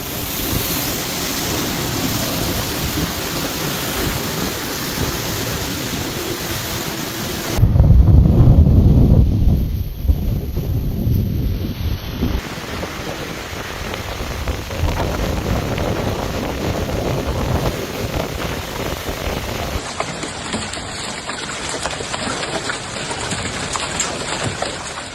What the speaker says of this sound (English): bringing heavy rain and the threat of hail